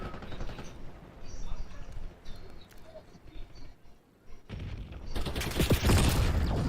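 Rapid bursts of video game gunfire rattle in fusillades, mixed with clicks and game sounds, growing loudest and densest toward the end.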